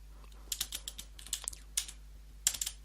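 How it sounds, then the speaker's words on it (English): Light clicks of typing on a computer keyboard come in short, irregular clusters of keystrokes, close and quiet, over a low steady hum, while an aircrack-ng command is entered. "So I'm just gonna go ahead and type that in."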